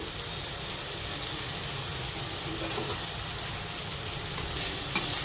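Crab pieces fry in hot oil for a crab curry, giving a steady, dense sizzle that runs close and continuous throughout with no talking.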